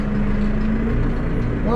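A farm tractor reverses briefly during nitrogen fertilizer spreading, giving a steady, close diesel engine rumble that fills the short moment, with a voice faintly present.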